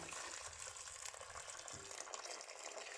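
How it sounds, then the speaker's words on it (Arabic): Boiling water from a kettle is poured over cooked fava beans, a steady quiet gushing stream with a faint splashing texture, close and without speech. "هنا ميه تبقى مغليه انا غلياها في الكاتل، وهنزل عليها كده على الفول بيها."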